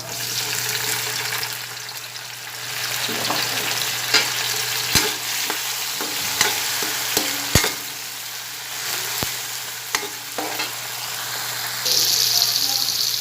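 Tomatoes sautéing in a pan for a Kapampangan bitter gourd dish, a loud steady sizzle broken by repeated sharp scrapes and taps of a spatula against the pan.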